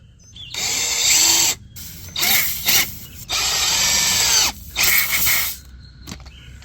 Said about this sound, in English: Let's begin drilling.